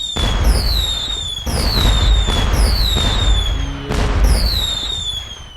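Fireworks in a Roblox game go off in a quick series of four or five loud bursts, each with a whistling, crackling tail, close and prominent with no talking.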